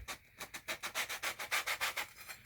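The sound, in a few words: sanding block rubbing edges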